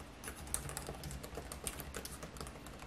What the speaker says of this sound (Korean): 타자를 칠 때 소음이 크지 않아서 역시 사무용에 적합한 키보드라고 볼 수 있죠